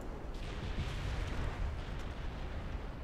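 A 15-inch naval gun salvo in the warship game Ultimate Admiral: Dreadnoughts: a low, rumbling roar of heavy guns and shell impacts, sustained and moderately faint, with no voices.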